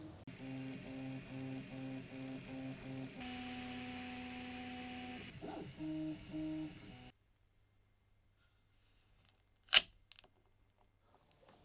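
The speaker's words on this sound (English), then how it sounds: "layer for layer it just builds up the whole thing until it's finished with the last layer and the model is finished printing" A 3D printer works through a model layer by layer, giving repeated rhythmic motor tones that shift pitch between moves, then stops to near silence broken by one sharp click.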